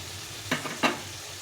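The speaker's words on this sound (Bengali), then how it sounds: "সবগুলো সবজি একটু নেড়ে চেড়ে নিতে হবে" Two quick spatula scrapes as fried vegetables are stirred into an oily spice mixture in a pan, brief and close over a faint background hum.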